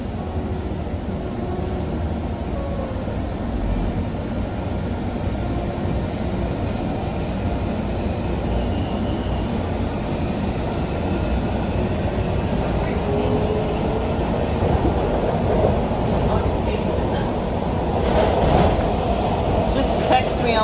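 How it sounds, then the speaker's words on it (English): A metro train rumbles along with a steady low roar, then a louder rushing swell near the end, as if heard from inside a car on the ride home. "It was a nice trip home on the metro."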